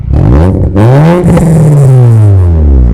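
A remapped Honda Jazz GK engine revs up loudly and holds, pitch rising then sustaining in a deep close-up roar before easing slightly.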